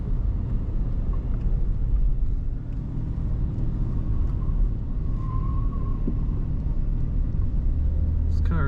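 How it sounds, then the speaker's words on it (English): A 1981 Buick Riviera two-door with its engine idling, a steady low rumble running evenly throughout with no change in pitch. "Very smooth running Buick."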